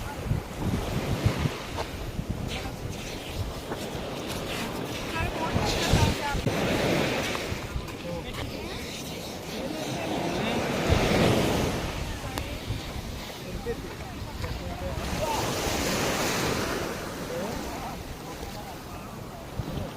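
Sea waves roll and wash onto the sandy beach at Malpe, Karnataka, a continuous loud surf with surging swells and heavy wind buffeting the microphone.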